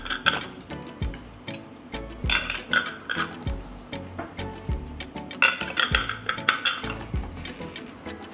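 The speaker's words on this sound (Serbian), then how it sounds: "I zatim ću tegle zatvoriti sa novim i čistim poklopcem." New, clean lids go onto filled glass jars, making close, irregular metallic clinks, scrapes and taps in quick bursts with brief pauses between.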